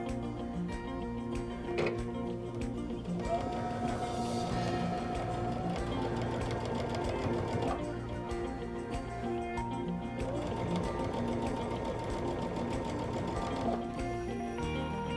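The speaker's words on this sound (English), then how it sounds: "our whole goal is just to stitch as close as we can to that fabric and keep it as straight as we can" A sewing machine stitching in the ditch along a seam of pillow fabric, a steady close whirring hum with a fast mechanical ticking rhythm that runs without pause, with no talking over it.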